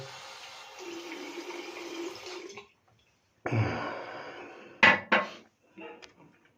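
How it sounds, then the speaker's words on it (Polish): Water pours into a bowl holding shaving soap, a couple of seconds of running water, a pause, then a louder splashing pour followed by sharp clinks of the bowl and a brief final trickle, close and without talk. "Mydło mam już w misce, doleję trochę wody,"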